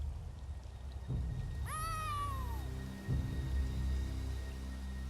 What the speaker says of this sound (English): Follow that cat!